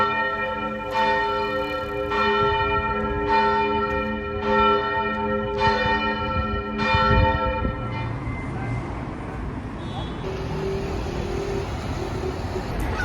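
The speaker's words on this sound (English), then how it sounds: "Do not let the bells toll too long." Church bells tolling in Belfast: about six slow, ringing strokes spaced a little over a second apart, each decaying, then fading into street and traffic ambience.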